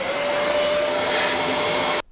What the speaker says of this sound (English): Now with the filter removed, I like to vacuum clean the box